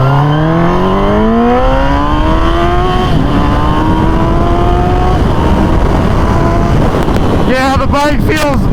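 Suzuki GSX-R sportbike engine revving hard and loud nearby, rising harmonic pitch climbing through gears with steady wind noise, then a burst of sharp revs near the end.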